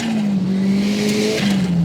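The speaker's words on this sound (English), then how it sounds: "The turbo noises are great." A turbocharged 320 whp Lotus Elise accelerates hard, its engine a loud, close, continuous drone that drops briefly at a gear change before pulling on again.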